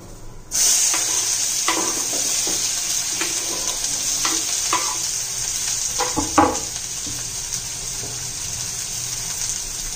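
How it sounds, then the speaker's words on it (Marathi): Chopped onion hits hot oil in a pan and sizzles with a loud, steady hiss that starts abruptly and holds, broken by light clinks and scrapes of stirring, with no voices. "आता कांदा आपण परतून घेऊया, चांगला भाजून घेऊया तांबूस रंगापर्यंत"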